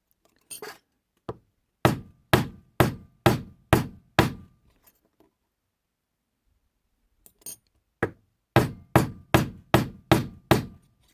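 A hammer taps metal in two runs of sharp, evenly spaced strikes while making a slip joint, about six in a row each time, separated by a few seconds of silence.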